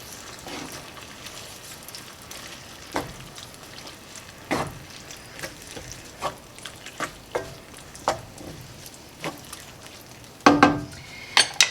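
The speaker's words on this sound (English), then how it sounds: "we're just going to add our black beans and we're going to give that a stir" Black beans tipped into a pan and stirred for a party dip: a soft steady sizzle runs underneath while spoon scrapes and clinks against the pan come at irregular intervals, with a cluster of louder knocks near the end.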